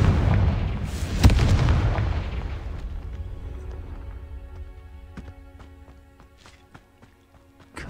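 A fiery Confringo spell explosion in Hogwarts Legacy erupts with a loud booming blast that rumbles and slowly fades, followed by scattered clicks and light footsteps.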